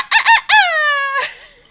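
A human voice imitates a small Japanese bantam (chabo) rooster crowing: a couple of short clipped notes, then a drawn-out high warbling crow ending in a falling tail, loud and close.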